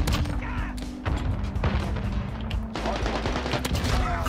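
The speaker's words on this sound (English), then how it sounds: "I just kinda shot through the smoke." Kar98k sniper rifle fire in the Modern Warfare video game: loud, dense bursts of gunshots and cracks over a busy, constant bed of battle noise lasting several seconds.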